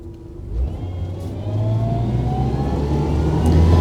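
A MasterCraft XStar 23 wakeboat with a supercharged 6.2 liter engine accelerating out of the hole, a steady, rising engine drone building in loudness alongside water rush, with no talking.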